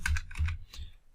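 Quick clusters of computer keyboard keystrokes clatter up close in a short run of typing, with no talk.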